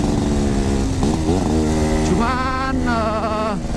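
A Yamaha RX King motorcycle roars while being ridden on a quiet road, its engine loud and close. The pitch rises and falls as the rider revs through the gears.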